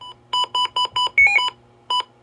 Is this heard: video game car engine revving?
no